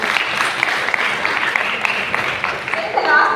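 Classmates applaud a student during a science lesson in a school classroom, a sustained round of clapping at close range with a voice rising near the end.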